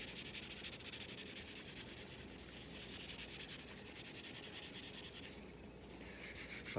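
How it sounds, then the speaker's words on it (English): Steady hand sanding of a 3D-printed part with wet sandpaper, a continuous close-up rubbing and scratching hiss that holds at an even level for several seconds with no talk. "So we're going to keep sanding here."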